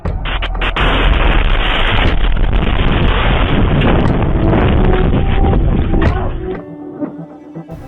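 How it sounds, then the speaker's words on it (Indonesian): Loud sustained blast roar from a rocket strike on a residential area in Kiryat Shmona, northern Israel, with rumbling booms lasting about six seconds before dropping to a quieter rumble. "Serangan ini menyebabkan ledakan besar dan kebakaran."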